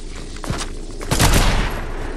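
Gunfire in the Fortnite video game: a burst of close, loud shots, a couple of sharp reports and then a denser rattling volley, with no voices over it.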